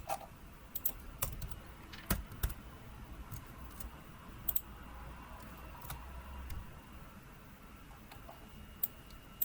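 Fast bursts of computer keyboard typing, crisp clicky keystrokes in irregular runs with short pauses, close and fairly quiet over a low background hum.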